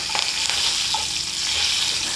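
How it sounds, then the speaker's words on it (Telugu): Curry leaves hiss and crackle as they hit hot tempering oil for a black carrot coconut curry, a loud, dense, steady sizzle close by with faint stirring, no voices. "కరివేపాకు వేసి ఒక్క సెకండ్ దాన్ని అటు ఇటు అనేసి"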